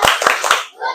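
Three sharp, evenly spaced claps from a classroom of children doing a rhythmic clapping chant, each clap ringing briefly before a quieter pause at the end.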